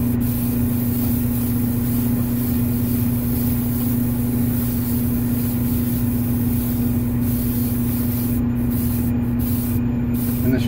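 Steady, continuous hiss of a spray gun laying a top coat of paint, loud and unbroken throughout, with a low mechanical hum beneath and a few brief interruptions near the end.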